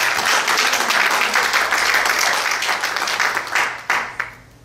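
A church congregation at a Spanish-language service claps in applause for the Lord, a loud, full round of clapping that thins out toward the end, with a few final scattered claps before fading.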